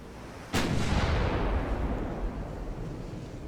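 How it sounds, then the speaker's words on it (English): A single heavy ship gun blast from a naval battle in Ultimate Admiral Dreadnoughts, a sudden booming report followed by a long rumbling decay, with no speech. "Let the bigger gun fire."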